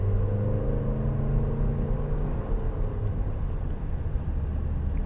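A 2025 Toyota Grand Highlander LE accelerates, giving a steady, loud low engine and road rumble with a rising drone that carries on evenly throughout and has no talk over it.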